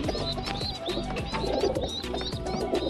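A golden female pigeon of a good breed coos softly and repeatedly in low, rolling phrases, mixed with light chirps and tweets from other birds nearby, and no one speaks.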